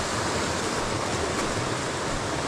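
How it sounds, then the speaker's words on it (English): Water of Fox Creek in the Virginia mountains flows in a steady, loud, close rushing wash that stays even and unbroken throughout, with no voices. "I see water flowing"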